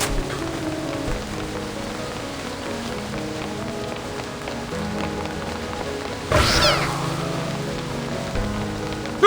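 Storm rain in the video game Reverse 1999, a steady patter of rain on surfaces running throughout, with a louder rushing gust near the end.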